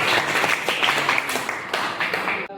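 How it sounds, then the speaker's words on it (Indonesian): Classroom applause for a student group that has just finished its presentation, a brisk, fairly close patter of many hands that continues evenly and cuts off abruptly near the end. "Kasih tepuk tangan."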